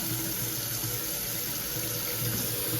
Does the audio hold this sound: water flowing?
yes